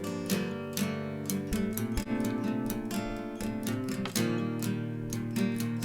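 Two acoustic guitars spread left and right in a home-produced arrangement, playing a busy rhythmic part with repeated plucked and strummed notes, steady and full with no voice.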